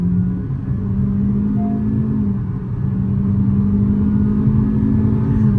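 A naturally aspirated 1.5-litre Honda Elevate with CVT accelerates in sports mode, heard from inside as a loud steady engine drone with a rising hum and road rumble, easing briefly mid-clip before building again.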